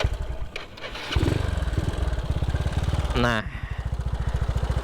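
A motorcycle fitted with an FX Racing R1 camshaft, two years in use, cranks and catches, then settles into a close, steady idle with a rapid, even pulsing beat. A brief spoken word comes right before it starts.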